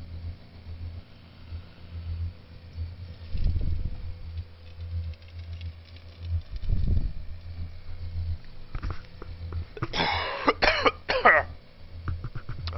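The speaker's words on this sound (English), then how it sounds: "I'm sorry if I cough on the microphone," A person coughs into the microphone, a few rough bursts near the end after muffled low thumps and background rumble, close and fairly loud.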